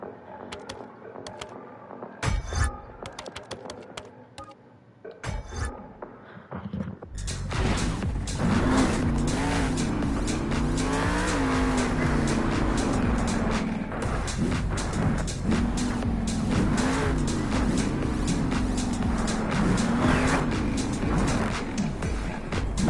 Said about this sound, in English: your next truck out, Colton Eichelberger in Max D